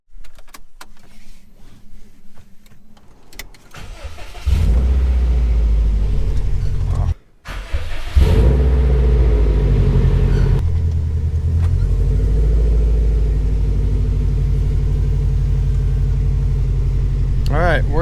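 A modified Subaru GC8 with upgraded motor and transmission mounts: a few clunks and a brief whir like a door or window, then a loud, steady engine rumble with a cabin drone while cruising, dropping out briefly before carrying on.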